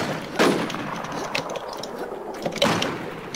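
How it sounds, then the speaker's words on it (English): Two distant sniper shots crack in the online zombie survival game Infestation The New Z, sharp reports spaced about two seconds apart over quiet ambient noise. "I think I'm getting sniped at."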